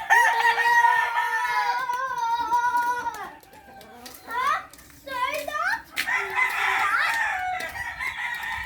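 A rooster on a farm lets out a long, loud crow, followed by short clucks and squawks from the chickens. A voice speaks among the bird calls.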